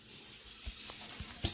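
Tap water running steadily into a cup in a home kitchen while making meatloaf, a soft continuous hiss with a few small clinks close by.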